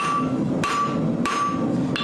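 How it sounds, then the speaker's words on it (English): Hammer striking a blacksmith's knife blank held over the anvil edge, four sharp ringing blows spaced evenly about two-thirds of a second apart, close and clear over quiet background. "Now I'm putting it over the edge, doing half on, half off blows, which means half of my hammer is over the face"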